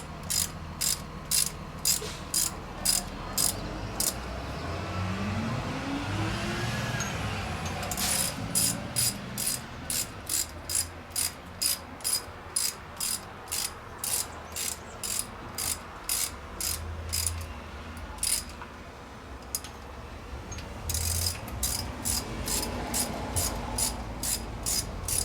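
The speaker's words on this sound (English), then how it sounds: "we'll torque them down in a crisscross" A ratchet snugs down water pump bolts on a Jeep in a crisscross pattern, giving repeated bursts of quick sharp clicking with short pauses between them, close and fairly quiet, with no talking.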